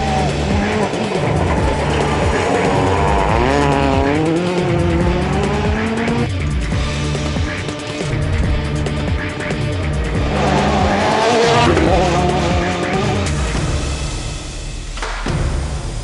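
Rally car on Michelin tyres driven hard, its engine revving up and down in loud sweeping bursts with tyre squeal and skids, close and continuous throughout.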